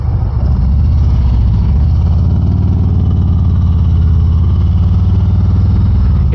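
A Harley motorcycle fitted with a slip-on exhaust and stock catalytic box idles steadily at close range, a loud, even low rumble that holds without revving.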